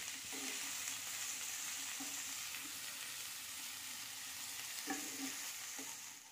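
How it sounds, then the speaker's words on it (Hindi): Boiled jackfruit fries in oil in a kadhai, giving a steady, bright sizzle throughout. Occasional soft knocks of a stirring spoon break through the sizzle, and there is no talking. "अब बॉईल की हुई कटहल डाल देंगी और इसे हल्का सा फ्राई कर लेंगे"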